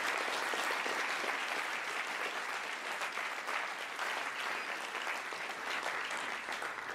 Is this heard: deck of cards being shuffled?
no